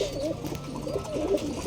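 Pigeons in a breeder's loft coo in low, throaty, repeated phrases, a steady close murmur with no talking over it.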